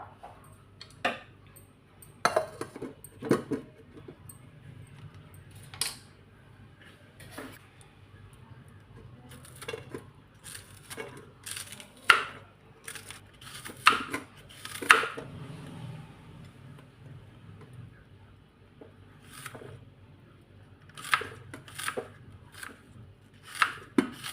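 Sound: chopping onion with a knife

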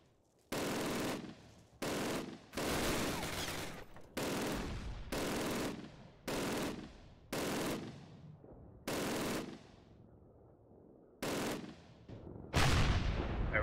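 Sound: gunfire in the video game Call of Duty (2003)

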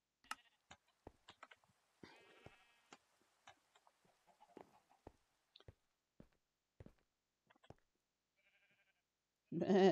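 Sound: sheep bleating in a video game

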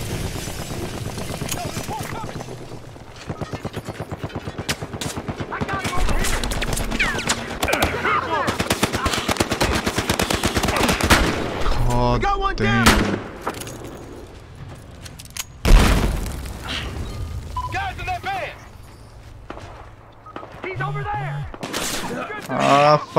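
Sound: gunfire in the video game Battlefield Hardline

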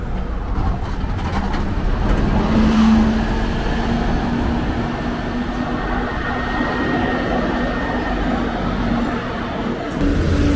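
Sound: Neobus Mega BRT Mercedes-Benz O500MA bus arriving

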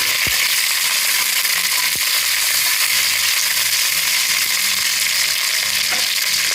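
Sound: green chillies frying for coconut rice

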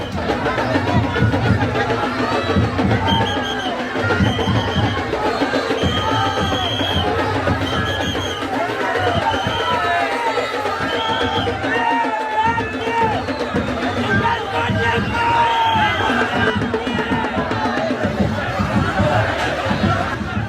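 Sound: crowd cheering at Bahiridev immersion procession

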